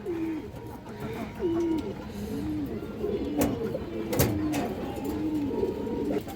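Caged pigeons coo in a steady series of soft, repeated rolling calls, close by, with scattered clicks and rustles from the cage around them.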